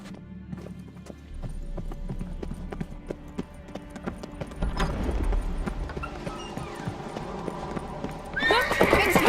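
Horses' hooves clip-clop steadily under rising neighs and whinnies, the hoofbeats growing louder and busier toward the end, with a brief voice in the mix, in a medieval chase setting with a horse named Roach.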